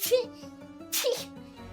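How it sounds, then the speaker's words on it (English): Two short sneezes about a second apart, sharp bursts of breathy noise over a steady low hum. "Okay, sorry, I sneezed."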